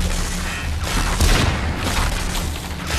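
Gunfire and booming impacts in the VR shooter Population: ONE, a loud, dense burst of shots and thuds with no talking.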